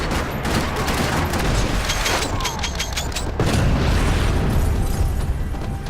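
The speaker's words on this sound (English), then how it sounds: "Another parking lot rattling with gunfire." Gunfire rattles across a parking lot in the Max Payne 3 video game, dense bursts of shots and booming impacts crowding together, with brief voices mixed under the din.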